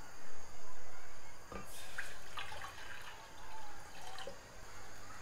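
Water poured from a container into a cooking pot for instant noodles, a steady hollow splashing pour with a few brief breaks and drips, close and moderately loud, no talking.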